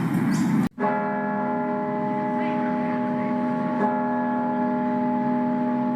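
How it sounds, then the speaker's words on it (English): A large bell at Brisbane City Hall rings loudly and sustains for the 75th anniversary of VP Day, its tone lingering with rich overtones, a second strike blending into the long resonant hum. "Bells ringing out for 2 minutes at Brisbane City Hall"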